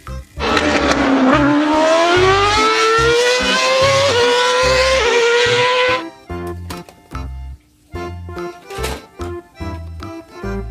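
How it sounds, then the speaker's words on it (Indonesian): A Formula One racing car engine screams loud and close, its pitch climbing steadily for about six seconds before cutting off, followed by a beat-driven music track. "Formula One racing car."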